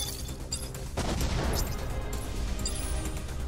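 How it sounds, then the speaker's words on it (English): Placeholder explosion sound effect used for mech thrusters in the video game M.A.S.S Builder, a sudden loud burst that swells into a sustained roaring rumble over steady game noise. "It's like the thrusting is definitely like an explosion sound effect."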